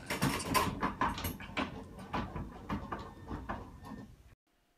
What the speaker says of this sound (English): here's the lift system zipping through the air